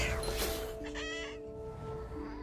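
Mother bird clucking in the video game What Remains of Edith Finch, a steady run of close, loud hen-like clucks over a continuous game background hum.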